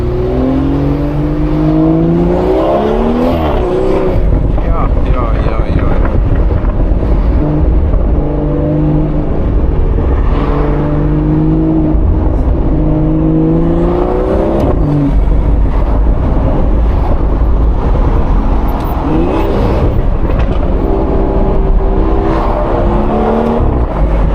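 A BMW 440i with a 330 hp engine revs and pulls through the gears while driving, its tone rising and dropping with each shift, loud and continuous from the cabin with no talking.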